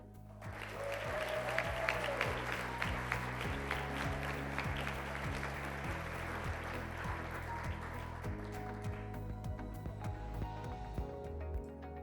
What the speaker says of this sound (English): Please join me in a round of applause for our final honoree of the afternoon